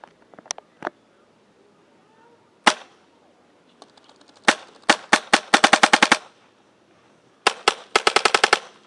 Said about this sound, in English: Alright, now we're on full auto. So you just hold down the trigger.